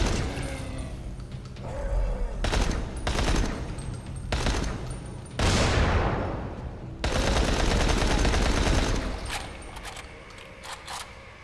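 Rapid automatic gunfire from the video game Dying Light rattles in long, loud bursts with brief gaps and a short mechanical whoosh between volleys.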